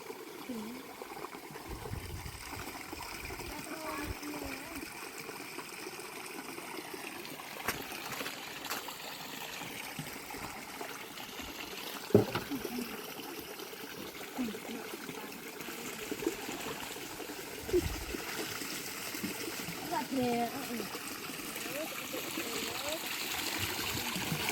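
A rural water stream trickles and flows steadily, a continuous gentle rush with occasional splashes, while people talk intermittently over it outdoors.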